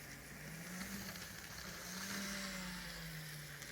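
A model train locomotive runs under DC throttle control at a steady speed, giving a faint, continuous motor whine that wavers gently in pitch over a soft hiss.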